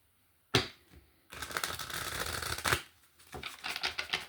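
A deck of cards riffles and snaps together, one sharp slap followed by a longer fluttering shuffle and a few quick bridging riffles.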